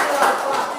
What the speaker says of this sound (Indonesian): Kita tepuk tangan putra.